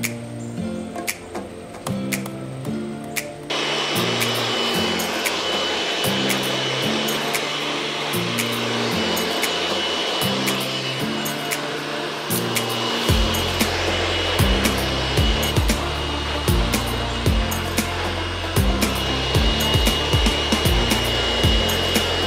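A hair dryer blows on a salon client's freshly rinsed hair after a haircut, a steady loud whir that starts abruptly a few seconds in and keeps running with some shifting tone.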